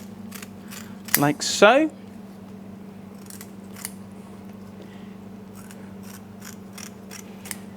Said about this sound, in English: So give the tail a little trim off as well,